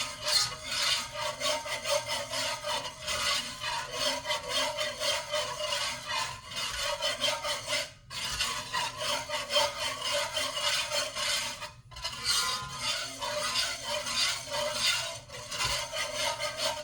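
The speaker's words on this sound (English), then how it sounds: "I know it's a little noisy because this is a cast iron skillet" A spoon scrapes and rasps steadily against a cast iron skillet, stirring seasonings for gravy in continuous strokes with brief pauses, loud and close, no voices.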